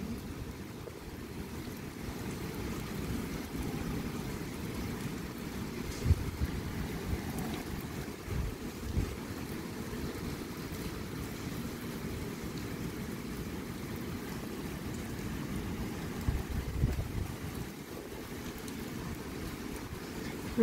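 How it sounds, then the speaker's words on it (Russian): Strong Typhoon Maysak wind gusts heard from indoors, a continuous low rumbling roar with rushing, rain-like hiss that swells slightly at moments, steady throughout with no talking. "Сейчас такие порывы ветра, что у нас даже дом трясется."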